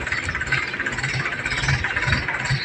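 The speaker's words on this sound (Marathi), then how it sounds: "ट्रॅक्टरने खत भरून चाललेलं आहे शेतामध्ये" A tractor carrying manure runs steadily nearby on a farm, a continuous rumbling drone with a faint rattle and no voices.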